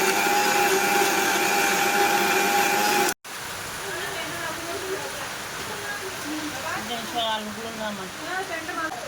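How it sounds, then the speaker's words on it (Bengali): Heavy monsoon rain falls outside a window as a steady broadband wash, loud at first, then a sharp cut and a softer continuing hiss with faint chirping sounds and occasional voices in the background. "আর এই যে জানলাতে প্রচুর বৃষ্টি।"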